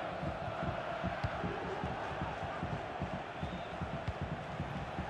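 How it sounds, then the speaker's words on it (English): A stadium crowd in the football video game EA FC 24, a dense, constant roar of many voices with chanting and faint shouts, broad and steady throughout with no commentary over it. "The crowd certainly think so. Just listen to them."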